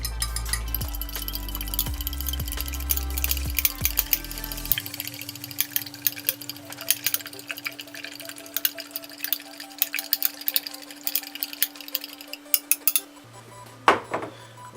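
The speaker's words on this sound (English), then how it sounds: "Next, you're making scrambled, so just stir it all up." A utensil stirs scrambled eggs in a pan, giving repeated light scraping and clinking against the metal for several seconds at close range, with a low steady hum underneath and no speech.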